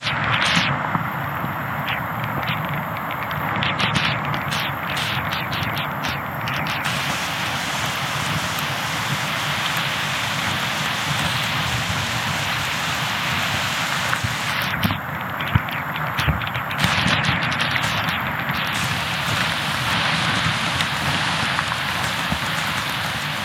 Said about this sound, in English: It's absolutely bucketing down.